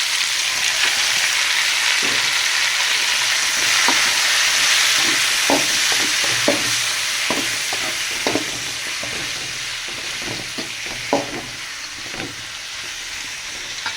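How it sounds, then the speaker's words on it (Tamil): Tomatoes sautéing for a chicken gravy, a steady loud sizzle in the pan with repeated soft stirring clicks and scrapes throughout, close and continuous with no talking. "தக்காளி வதங்கணும்னா சீக்கிரம் வதங்கணும்னா உப்பு ஒன்று போட்டால் வதங்கிடும்"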